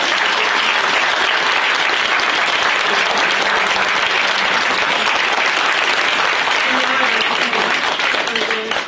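Loud, sustained applause from a sizable audience, steady clapping filling the room for several seconds without a break.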